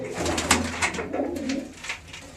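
A pigeon coos in soft, throaty rolling bursts close by, repeated several times over a low background murmur, with no talking.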